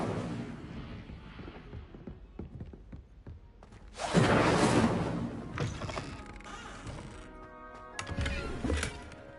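Incendio fire spell cast in Hogwarts Legacy, a video game: a loud whooshing burst of flame erupts and roars for a couple of seconds over busy game clatter, then a second, weaker fiery flare follows near the end.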